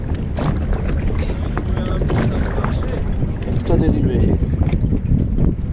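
A small motor boat arrives near an island off Mindelo, São Vicente, Cape Verde, its engine and water noise a continuous rough wash heavily buffeted by wind on the microphone, with faint voices now and then.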